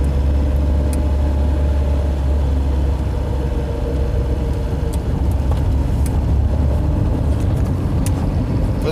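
Engine of a Skoda Favorit, an old carburettor-era hatchback that is low on oil, droning steadily at low revs through the cabin during a road drive; a constant loud rumble with no talk over it.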